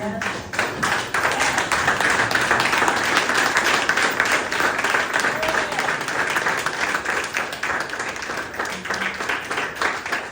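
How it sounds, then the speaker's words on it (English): A standing audience at a poetry event applauds steadily, dense clapping that stays loud and even for the whole stretch with no talk over it. "Can you stand and give her a big round of applause?"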